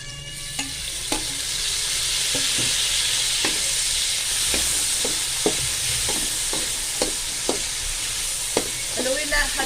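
Garlic and tomatoes cooking in a hot pan, a constant bright sizzle with repeated spatula clicks and scrapes against the pan every second or so; no one speaks.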